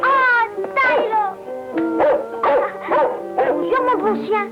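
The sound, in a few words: dog whimpering and yipping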